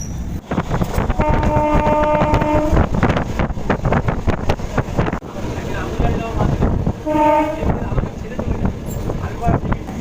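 A local train runs between Ichapur and Palta in North 24 Parganas, heard from inside as a loud continuous rumble with rattling, wind buffeting and repeated horn-like tones, while a voice talks over it.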